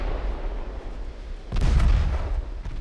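Torpedoes strike cruisers in Ultimate Admiral: Dreadnoughts naval battle, heard as distant rumbling followed by a heavy, booming explosion halfway through that rolls on with a deep roar; no one talks.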